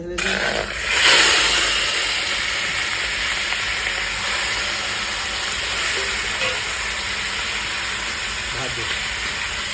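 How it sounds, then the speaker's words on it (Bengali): Whole cumin, bay leaves, cloves and cinnamon hiss and sizzle steadily in very hot oil, a loud broadband crackle that flares sharply near the start and then holds constant with faint background voices. "গোটা জিরে তেজপাতা লং দারচিনি এগুলো দিয়ে দেবো তেলটা গরম হয়ে গেছে"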